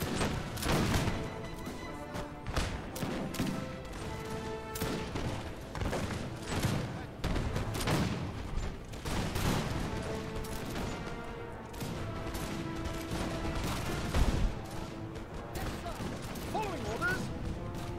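Dense, continuous gunfire and musket volleys in a Napoleonic-era video game battle between French Old Guard units and foot infantry, with sharp cracks and booms layered over a busy battle din, loud and sustained throughout.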